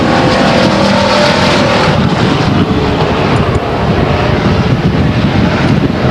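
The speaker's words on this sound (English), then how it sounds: "Aaron Schenkel is still on the throttle, going down the backstretch, takes the first place spot away" Race cars roaring around the Stockton 99 Speedway oval, a loud, dense continuous engine drone from several cars at full throttle, with wind buffeting the microphone.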